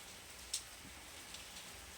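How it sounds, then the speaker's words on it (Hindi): Rain falls steadily in a soft, even hiss, with a couple of sharper drips or drops landing nearby, and no one speaking. "तो अभी जो बारिश हो रही है"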